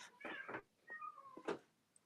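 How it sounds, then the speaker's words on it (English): A cat meows several times indoors, with short wavering cries in quick succession and then a longer pitched call, fairly close and clear, then a pause. "My cat in there making noise."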